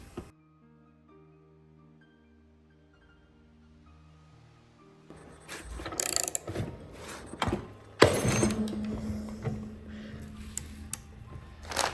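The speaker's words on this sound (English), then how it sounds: "let's start putting some pressure on this crank here" A Tusk case splitter is cranked down to press the crankshaft out of a Yamaha YZ450F engine case. Quiet at first, then close metallic clicks, scrapes and ratcheting knocks that build into irregular bursts, with one sharp clank.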